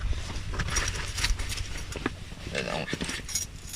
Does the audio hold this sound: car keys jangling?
yes